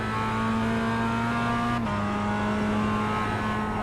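A race car engine in the iRacing sim during a production car challenge drones loud and steady with a high harmonic whine, then briefly drops in pitch as the gear changes before holding steady again.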